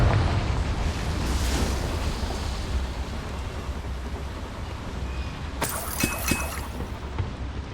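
A Confringo spell goes off in the Hogwarts Legacy video game inside a small mine, a loud, sustained roaring blast with a bright crackling burst near the end.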